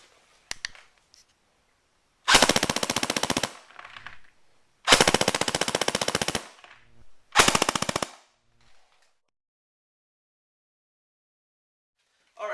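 Two airsoft submachine guns, an ICS M3 and an AGM MP40, fire three loud full-auto bursts of rapid mechanical cracks, each lasting about a second or more, separated by short pauses, with a brief click at the start.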